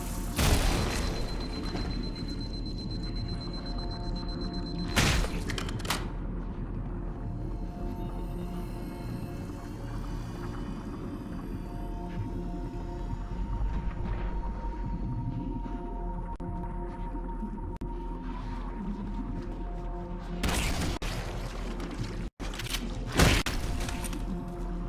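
Flood carrier forms burst in the Library level of Halo Anniversary, with a few sharp, heavy pops over murky, rumbling game ambience, two of them coming close together near the end.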